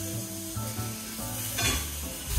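Diced ham sizzles and spits in a hot pan, a steady close crackle with faint scraping and a brief louder burst near the end; no voices.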